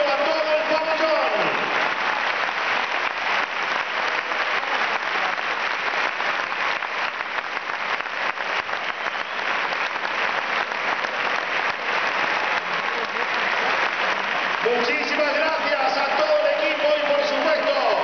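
Sustained, loud applause from the crowd filling a sports arena, honouring the Real Madrid juniors as their trophy is offered to the hall, steady throughout with no clear voices on top.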